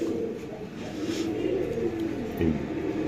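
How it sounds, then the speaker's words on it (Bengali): A pair of pigeons offered for sale coo softly at close range, repeating low, throaty calls over a few seconds with no one speaking. "হাতে আছে একজোড়া কবুতর"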